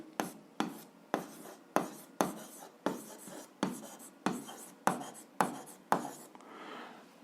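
A pen writes out the conclusion of an algebra proof for a seventh-grade exercise, heard as about a dozen close, crisp scratching strokes in a steady rhythm on paper, with no talking.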